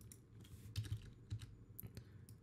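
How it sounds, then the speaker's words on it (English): Computer keyboard keys pressed by hand at close range: a quiet, irregular run of soft clicks and taps with no talking. "Maybe press T on the keyboard and just lower it a little bit."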